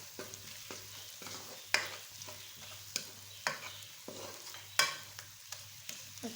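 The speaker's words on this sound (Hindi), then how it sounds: "मसाले ऐड करते जाएं और 2 से 3 मिनट हर मसाले को भूनते जाएं" Spices for chickpea curry (Lahori chikar cholay) frying in a pan, a steady low sizzle broken by sharp spoon scrapes and clacks every second or so, close and alone without voices.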